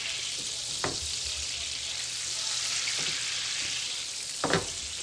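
Butter heating in a hot pan gives a steady, close sizzle, with a few faint utensil taps and clicks scattered through it.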